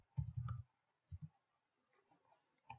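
Computer mouse clicks: a quick cluster of several sharp clicks near the start, a second short pair about half a second later, then one more click at the end, close and dry against near silence.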